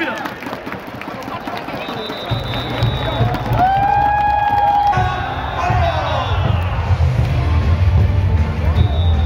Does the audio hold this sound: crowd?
yes